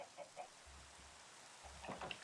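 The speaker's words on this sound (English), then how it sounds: "Chicken, get back here." A Minecraft chicken gives a few soft, short clucks, very faint and spaced apart against quiet game background.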